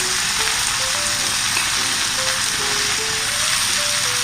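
Ginger and onions sizzling in oil in a pan while cooking an oyster casserole, a continuous close, loud frying hiss with faint scraping, no talking.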